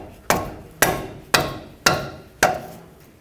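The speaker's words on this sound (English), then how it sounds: "I'm going to use a rubber mallet to tap on the wrench and help break this free." A rubber mallet taps a 22mm wrench on a tie rod nut of a Chevrolet Express: five sharp, evenly spaced knocks, close and distinct, each ringing briefly before the next.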